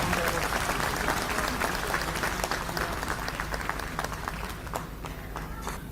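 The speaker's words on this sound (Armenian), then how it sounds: "ես խնդրում եմ իրեն էլ բուռն ծափերով" Enthusiastic audience applause at a public gathering fills the whole stretch, a dense, loud and steady clapping that slowly tapers slightly toward the end.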